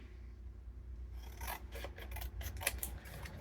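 Scissors cut through 80-pound white cardstock, a quick close series of dry rasping snips after a quiet start, with no talking.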